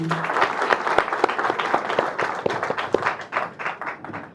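Guests at an official Congolese wedding ceremony applauding; a crowd of distinct, fairly close claps forms an uneven rhythm, starting just after a brief voice.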